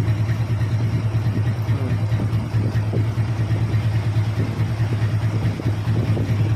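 An upgraded LS135 motorcycle engine fitted with an NS150 cylinder block and NS160 transmission idles at a low, even RPM, giving a close, steady, throbbing hum that runs unbroken throughout.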